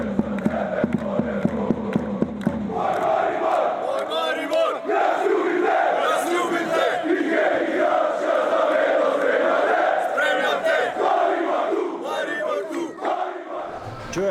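Maribor football fans chant loudly in unison as a massed crowd, rhythmic claps at first giving way to a sustained roaring chant that fills the space.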